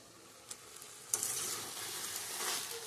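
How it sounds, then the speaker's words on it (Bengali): Chopped vegetables and Malabar spinach greens fry in a pan, a close, continuous hissing sizzle that swells louder after a sharp knock as the greens are stirred, with faint scraping throughout. "এই যে পুঁই শাকের চটচড়ি করছি আনাজগুলো সমস্ত ভেজে নিয়ে শাক দিয়েছি ভালো করে কষিয়ে নিই"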